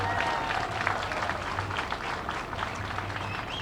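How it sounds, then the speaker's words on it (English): Audience at the Little Miss Richmond pageant during 2014 Good Old Days opening ceremonies clapping for the contestants, a steady, full round of applause from a crowd, fairly close and sustained throughout. "Let's clap for all of our girls tonight,"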